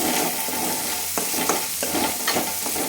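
Green chillies fry in hot oil for a fish curry, giving a steady, close sizzle broken by a few sharp stirring scrapes, with no talking.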